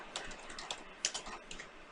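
Fingers tap out Java code on a computer keyboard in a quick, uneven patter of soft clicks, close but fairly quiet.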